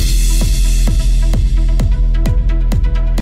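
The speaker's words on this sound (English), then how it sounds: "I want to listen to some good old beats." Loud music with a steady thumping beat and a low sustained bass plays continuously, then cuts off abruptly at the end.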